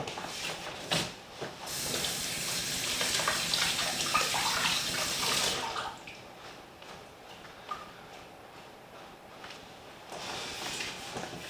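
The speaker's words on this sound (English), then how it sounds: "I'll give these a quick rinse." White button mushrooms are rinsed under a running kitchen tap, a steady bright hiss of water for about six seconds that cuts off, followed by quieter clicks and handling sounds.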